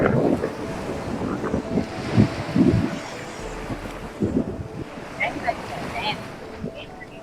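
Wind sweeps across Madhavpur beach with a steady, gusting rush and microphone buffeting. Surf murmurs underneath.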